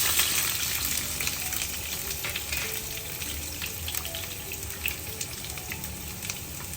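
Chopped shallots frying in hot oil with popped mustard seeds for an Onam sambar, a steady close sizzle with light crackles and stirring throughout, no voices.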